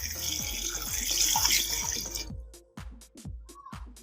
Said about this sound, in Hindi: इसमें पानी ऐड करूँगी।